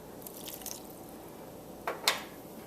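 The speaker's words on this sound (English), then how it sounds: "Now I'm adding a 1/2 cup of water" Water is poured from a half-cup measure into a bowl of unbleached organic flour for country bread dough, making a couple of brief splashy, wet bursts over quiet room noise.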